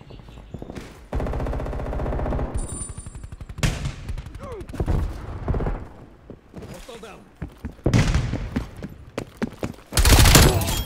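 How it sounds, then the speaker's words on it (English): Gunfire rattles through a first-person shooter video game, with a dense burst of rapid automatic shots followed by scattered single shots and thuds. A player's voice talks over parts of it. "I don't know why that guy's shooting me."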